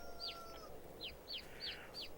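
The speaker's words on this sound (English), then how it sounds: "There's one crate of roosters." Roosters in a crate in Farming Simulator 22 give five quick, high, downward chirping calls at uneven intervals, faint over a steady low game hum, with no voice.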